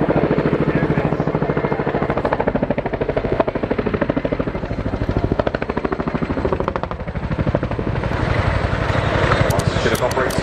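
Military helicopter at the Royal International Air Tattoo air display, a loud rapid rotor chop pulsing steadily throughout, with a commentator's voice speaking over it.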